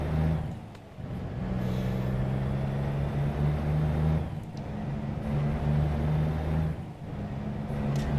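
Steady low engine drone of a truck driving in American Truck Simulator, with a constant hum and brief dips where the engine note drops between gear shifts, heard alone and fairly loud.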